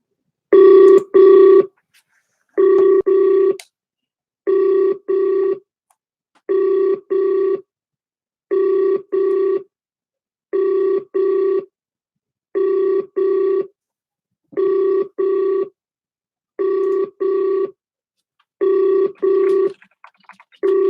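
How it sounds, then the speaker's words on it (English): A telephone call rings out with repeated double-burst ringback tones, evenly spaced and loud, about ten cycles with silence between them and no talking. "So I'm going to call him right now."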